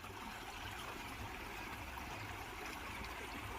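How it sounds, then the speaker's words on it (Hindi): Water flows naturally in a village setting, a faint, steady rushing wash like a small stream, continuous and alone with no voices. "देखिए किस तरह पानी फ्लो हो रहा है नेचुरल वे में।"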